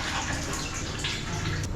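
Water splashes and pours steadily onto a tiled floor during house floor washing, a continuous close wash with a brief louder gush near the end and no talking.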